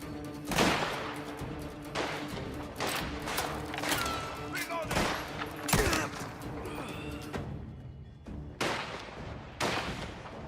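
Gunshots crack out over and over in the video game Mafia: The Old Country, loud and sharp in uneven bursts, while a voice talks excitedly in between.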